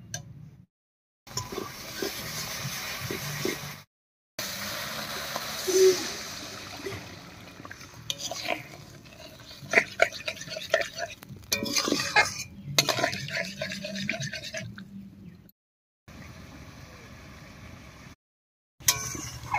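Egg curry gravy thinned with a little water and cooked down with yogurt and ground spices, stirred in a pot on the stove with scraping, clinking and faint bubbling.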